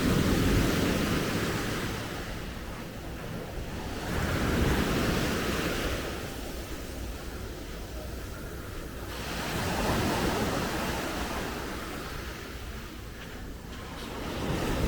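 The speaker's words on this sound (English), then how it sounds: "The waves are normally very good." Calm ocean waves wash ashore at Mismaloya Beach near Puerto Vallarta, a steady broadband surf roar that swells and recedes in slow surges every few seconds, with some wind noise and no voices.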